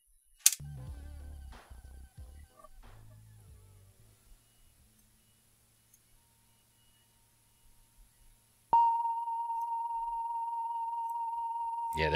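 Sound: 1 kHz sine wave test tone played from cassette

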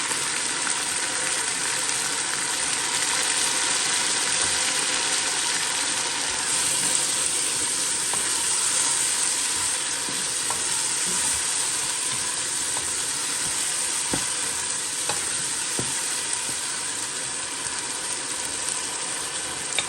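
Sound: tomatoes frying and stirred for chicken biryani

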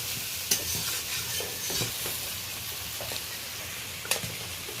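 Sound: shrimp being stirred and fried in a pan

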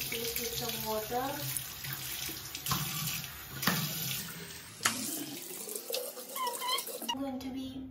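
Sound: water splashing from tap while washing face

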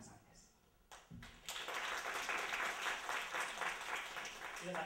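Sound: audience applause welcoming a choir

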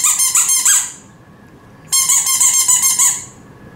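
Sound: squeaky dog toy being squeaked

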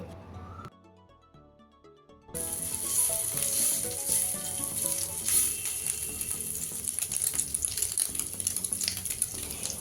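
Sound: paneer pieces frying in ghee in a frying pan

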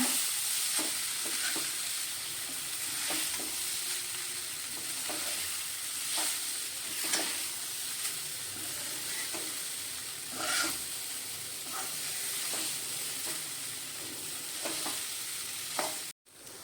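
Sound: stirring poha (flattened rice) in a frying pan

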